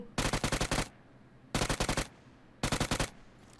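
UMP submachine gun fired in a video game: three rapid automatic bursts of close, loud shots with short pauses between them and no talking.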